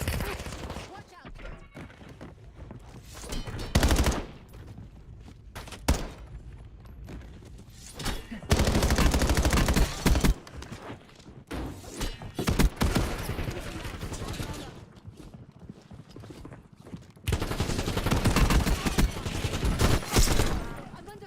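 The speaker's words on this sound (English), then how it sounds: "I'm under fire." Rapid bursts of gunfire from a Black Ops battle royale match, loud close volleys and machine-gun strings alternating with quieter gaps over about twenty seconds, a voice speaking briefly between the shots.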